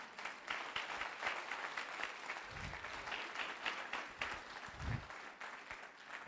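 Worshippers at a church service clap for the Lord, a full, continuous round of applause from a large congregation with a few low thumps mixed in.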